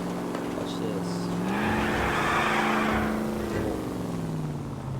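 A car in the L.A. Noire video game skids through a handbrake turn: a steady engine drone bends in pitch as a broad tyre squeal swells and fades, with a second brief skid near the end.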